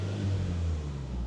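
Nissan Silvia S15 Spec R engine from 2000 held steady at raised revs, a continuous low droning hum with no stumble, close and loud on its own.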